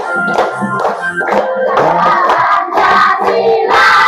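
A class of students clapping their hands in a school setting, a bright, irregular patter of many hands with musical or sung tones mixed in.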